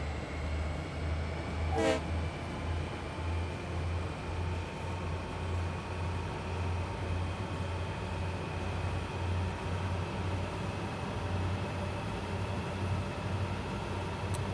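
A long, heavy freight train in Train Sim World 5 rumbles steadily uphill with a low, droning engine hum, a brief horn blast sounding early on over the continuous mechanical roar.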